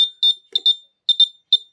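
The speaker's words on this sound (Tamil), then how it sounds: "குறுக்க ஏதாவது பொருட்கள் வரும்போது நமக்கு என்ன செய்யும்னா, இது அலாரம் குடுக்கும்." A school project's railway track safety sensor alarm sounds loud and close, sending out short, shrill electronic beeps in uneven clusters.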